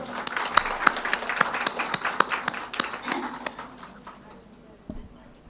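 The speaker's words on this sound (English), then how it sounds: "one more round of applause" Applause from an audience at an evening talk, a loose round of clapping with sharp individual claps that thins out toward the end, fairly distant.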